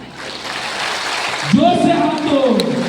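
A crowd at a community gathering claps in a dense wash of applause, and then a loud voice starts speaking over the fading clapping.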